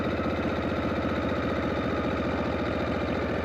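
A David Mann chopper motorcycle idling slightly high with a Country Cycle front end, a close, steady low rumble with a rapid regular pulsing beat that holds unchanged throughout, with no talking.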